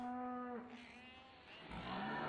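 Cows lowing in the Farming Simulator 17 video game, a long drawn-out moo followed by a second, rougher moo, fairly close and with no talk over them.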